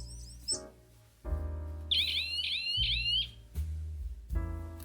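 A DC electric bell, partly muffled with tape, rings in short bursts with pauses between, each burst a buzzing metallic trill, fairly loud and close, with faint chirping tones overhead.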